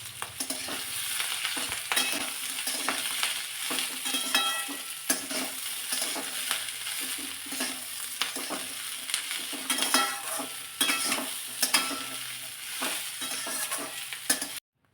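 Crushed garlic stirs and sautés in a pan, a continuous sizzle broken by frequent spatula scrapes and knocks against the metal, close and steady without speech.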